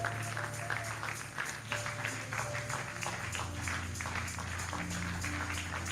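A church congregation applauding and cheering, with dense rhythmic clapping steadily filling the room and voices blended underneath.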